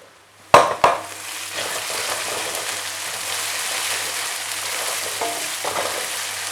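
Onions sauté in a pan for egg curry, a couple of sharp clanks at the start giving way to a steady, close, fairly loud sizzling hiss with faint occasional stirring, no speech.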